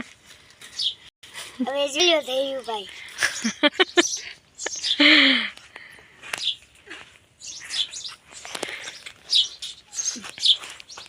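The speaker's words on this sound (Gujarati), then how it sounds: "અમારે એક પક્ષીઓનો કલબલાટ સવારમાં છ વાગ્યાથી ચાલુ થઈ જાય" Birds chirp and tweet repeatedly with quick rising calls, mixed with nearby talking and household noises.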